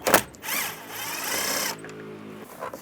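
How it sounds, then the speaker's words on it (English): A power driver with a 7mm socket backs a screw out of a cover panel on a 2007-2013 Chevy Silverado: a short buzzing whir lasting about a second, close by, with clicks before and after. "Using a 7mm socket, we're going to take the screw out."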